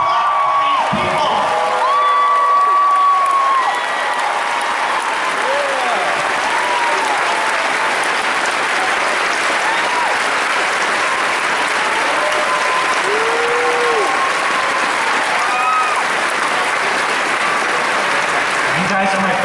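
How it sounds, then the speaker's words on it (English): A large convention panel audience at RTX 2015 applauds loudly and continuously, with scattered cheers and whoops rising above the clapping. "Anybody working on please clap for these people."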